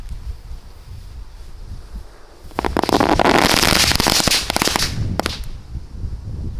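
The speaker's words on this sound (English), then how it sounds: "Happy bomb, these things go up in like a second. It's a candle." A Happy Bomb firework candle set in sand during a Fourth of July show fires a rapid crackling burst of shots lasting a few seconds, then a couple of final pops, close and loud.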